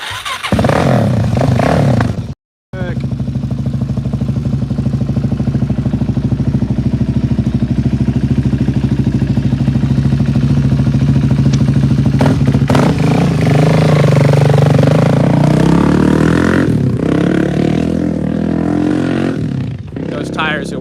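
A Suzuki DRZ motorcycle idles loudly and steadily up close, with a brief cutout near the start and a rougher rising rev toward the end, while people talk over it.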